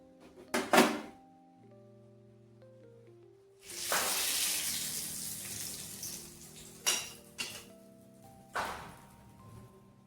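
A few soft clunks, then a loud burst of sizzling as spices hit hot oil in a tempering for peanut chutney, followed by shorter sharp sizzles that flare and fade.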